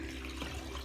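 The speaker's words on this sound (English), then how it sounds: "I'm going to pour in 5 cups of water, which is going to take a minute because I got to fill this water up." Tap water running into a cup, a steady close hiss of flowing water with no voices over it.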